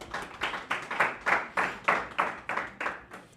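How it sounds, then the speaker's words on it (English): A school crowd applauds football athletes receiving awards in steady rhythmic bursts, about a dozen swells of clapping at a regular pace, moderately loud with no voices. "Could we please get a round of applause for those football athletes?"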